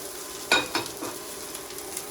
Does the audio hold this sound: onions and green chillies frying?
yes